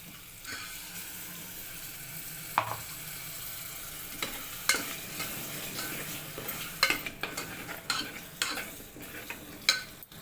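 Sesame paste being stirred into cooked tomato in a pan, a quiet steady sizzle with soft scrapes and clinks of a spoon against the pan, growing busier toward the end.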